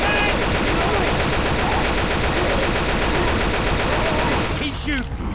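Sustained automatic gunfire from several weapons rattles on continuously in the Left 4 Dead 2 zombie shooter, dense and loud, before thinning out near the end.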